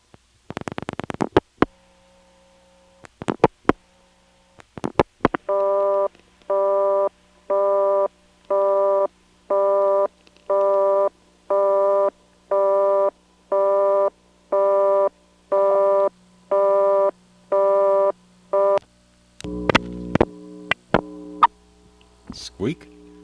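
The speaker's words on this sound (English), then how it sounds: "this is another Stromberg XY, and its busy signal and reorder tone go" A Stromberg XY telephone exchange gives a busy signal and then a reorder tone, a long run of evenly spaced tone bursts after a few clicks and switching noises, ending in a burst of clatter.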